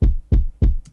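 Three identical punchy kick drum hits from a sample in Soundtrap, evenly spaced and close, each a deep thump with a short decay, followed by a faint lighter tick.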